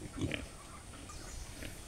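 Young weaned piglets grunting in a pen, a few short snorting grunts close by, followed by quieter rustling and faint calls.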